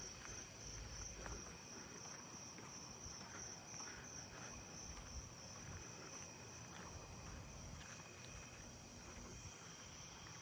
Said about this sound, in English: I hear a robust conehead back behind me somewhere.